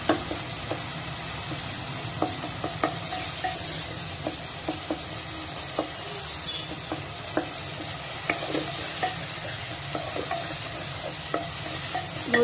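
Eggs sizzle and fry in a tomato curry while a spoon stirs steadily, scraping and clicking against the pan at irregular intervals over a constant close sizzle, with no voices.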